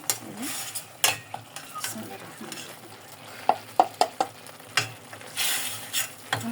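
Grated coconut and onion stir-fried with chili powder, turmeric, cumin and salt for a coconut hilsa dish: a continuous close sizzle broken by repeated spatula scrapes and knocks on the pan.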